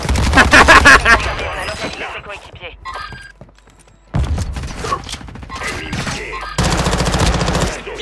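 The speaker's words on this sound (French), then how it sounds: "Ah, mais il tire sur mes potes." Loud, rapid gunfire bursts in the Warzone shooter game, with an overlapping voice, a brief near-silent gap, then heavy firing again.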